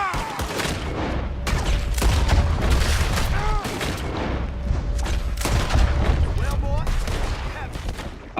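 Rapid bursts of gunfire from a shootout in Red Dead Redemption 2, loud repeated shots and booms crackling in irregular volleys across the whole stretch.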